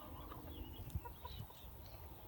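Hens clucking softly in a backyard chicken yard, a mix of young and older birds, with scattered low calls and scratching sounds at a quiet, moderate distance.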